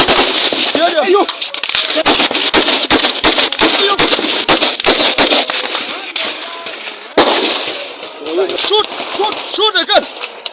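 Rapid bursts of gunfire crack out in dense, irregular volleys during fighting in the Ambazonia conflict, loud and close, with brief gaps between clusters and voices shouting among the shots.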